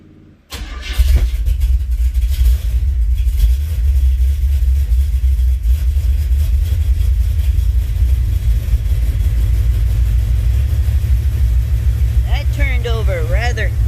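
A $500 car cranks briefly and catches, then settles into a loud, steady idle that rumbles close by for over ten seconds. A voice speaks faintly near the end.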